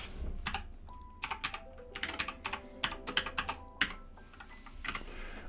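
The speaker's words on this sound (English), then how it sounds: "And we're typing that in." Fingers type on a computer keyboard in quick clusters of sharp clicks, close and clear, with short pauses between bursts and a faint tone in the background.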